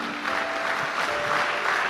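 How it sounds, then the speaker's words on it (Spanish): Applause fills a church service, a steady, dense wash of clapping from the congregation throughout, fairly close and even in level with no speech over it. "Le dé el aplauso al Señor"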